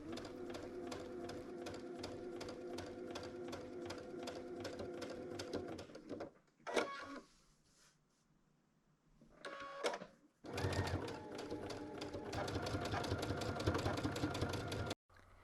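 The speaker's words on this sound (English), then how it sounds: "pivot 45 degrees at the Prairie Point corners and sew across them" A sewing machine sews across prairie point appliqué corners in a steady six-second run, stops for a pause broken by brief handling sounds, then resumes steadily.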